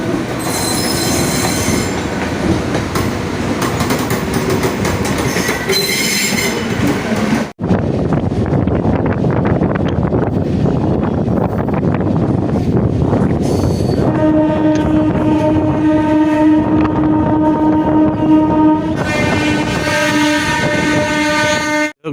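A train at Belur railway station rumbles and clatters loudly past, with a sharp cut midway, then strong sustained horn-like tones and squealing wheels ring out over the rolling noise.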